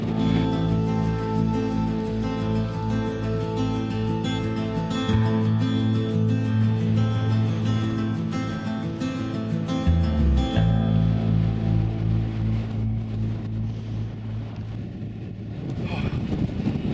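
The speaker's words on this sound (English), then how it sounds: "Now it's getting windy. We're right up in the weather." Strong wind roars and buffets the microphone continuously high on Helvellyn in the Lake District, a heavy rushing noise that barely lets up.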